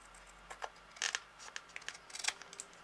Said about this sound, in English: I'll just take my big scissors and trim that top bit off.